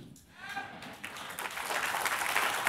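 A church congregation claps during a sermon, the clapping building from a scattered start into steady, fairly close applause that carries on to the end.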